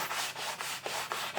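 Sandpaper of 240 grit rubs across a wooden guitar fretboard in quick back-and-forth strokes, about six soft, even scrapes in a row, close and quiet with no talking.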